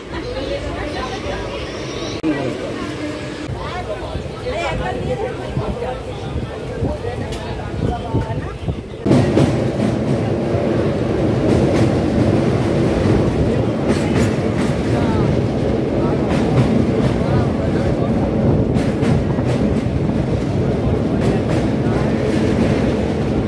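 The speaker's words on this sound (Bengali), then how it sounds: "তো এখন কিন্তু আমাদের ট্রেন এসে পৌঁছালো মেছেদাতে" A late-running passenger train on the Kolkata to Digha special service pulls into Mechheda station, with a steady loud rumble and rattle from about nine seconds on, people talking and station chatter throughout.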